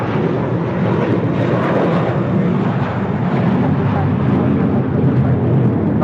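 A jet airliner taking off from runway 25 right at Los Angeles International Airport, a steady loud broadband engine roar lasting throughout with no breaks or voices.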